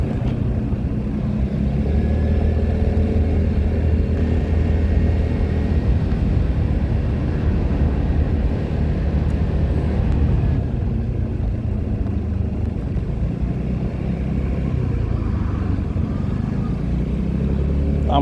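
A Vespa GTS 300 scooter cruises along with a continuous, loud engine drone and wind rush, holding a steady pitch through the whole ride.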